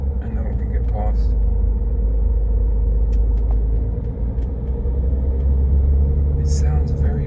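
A BMW X5 E70 35d diesel SUV climbing uphill, its engine a heavy low drone with a constant turbo whistle riding above it, steady and close throughout.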